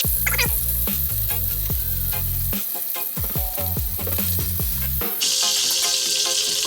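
Chinese five spice pork belly, crisp at the edges, sizzles loudly in hot fat as it is lifted out of the pan. A steady dense crackle runs throughout, broken by sharp scraping clatters and a few brief dips.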